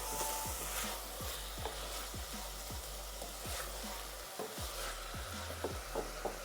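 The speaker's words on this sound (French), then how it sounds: "Il y a les oignons qui cuisent, il y a la viande qui grille." Onions and meat sizzle steadily in a hot frying pan for quesadillas, a dense crackling hiss with regular scraping stirs and a low hum underneath.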